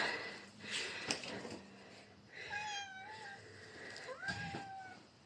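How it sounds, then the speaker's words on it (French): A house cat meows several times, with drawn-out rising and falling cries near the middle and end, fairly close but soft, over quiet room background with no talking. "Du coup, je vous présente mon chat."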